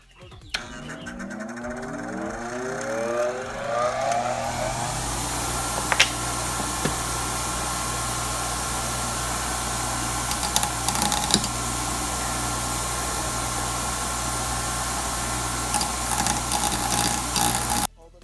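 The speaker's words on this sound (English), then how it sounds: "that washer won't let it go on there, so I'm gonna grind it off real quick." An angle grinder cuts off a washer on an Acura RSX (DC5) Neuspeed strut bar: a loud, sustained high whine that spins up over a few seconds and then holds steady, close and continuous until it cuts out at the end.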